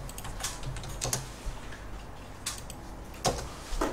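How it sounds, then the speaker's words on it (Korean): Keys tapped on a computer keyboard while drafting in AutoCAD, the Enter key among them: a few sharp, separate clicks spaced irregularly over a quiet room, near and moderately loud, with no talking. "엔터 한번 치시고"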